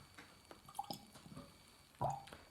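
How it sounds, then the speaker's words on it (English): Small splashes and drips of water fall into a glass of Cadenhead Paul John 2018 whisky, a few soft scattered drops and then one louder splash near the end, quiet and close. "I'm just going to add a little bit of water to that as well, just see if it opens up."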